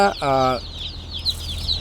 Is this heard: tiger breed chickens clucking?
yes